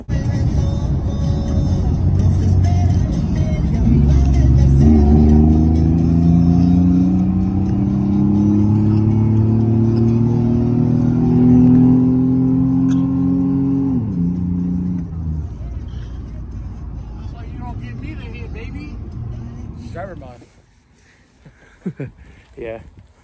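A V6 car accelerates hard and keeps pulling, its engine note climbing steadily through the gears for about fifteen seconds, loud and close, before dropping away to quiet with faint background noise.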